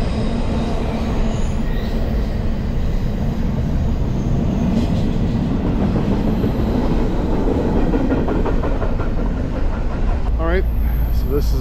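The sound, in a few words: long train passing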